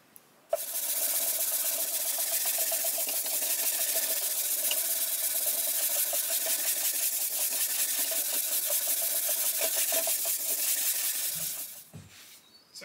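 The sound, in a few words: hand sanding wood veneer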